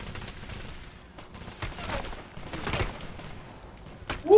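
Video game gunfire in a special forces shooter, bursts of rifle and machine gun fire crackling through a busy mix at moderate loudness.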